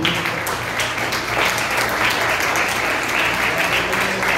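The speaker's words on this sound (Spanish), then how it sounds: "Fuerte aplauso al Señor Jesucristo." A church congregation applauds loudly and steadily during a Sunday service, a dense wash of many hands clapping that stays constant throughout.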